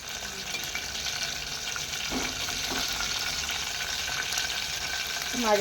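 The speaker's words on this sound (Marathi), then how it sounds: "बारीक गॅसवरती त्याच्यानंतर आपण अद्रक लसूणची पेस्ट टाकूया" Ginger garlic paste sizzles in a pan over low heat, a steady bright hiss with faint stirring clicks and scrapes, close by and without talk.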